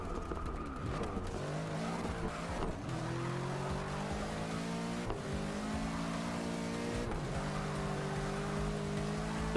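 Bentley race car in Forza Motorsport 6 roaring steadily, its engine note rising and falling through gear changes, with tyre squeal and skidding mixed in, loud and continuous with no talking.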